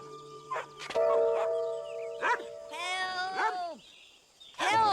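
A cartoon dog barks and yelps in short, loud bursts near an old scrapyard, with animated squeals and tonal character sounds between them.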